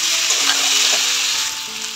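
Masala with garlic and ginger paste sizzles steadily in a pan, a dense, even hiss holding loud throughout with no voices.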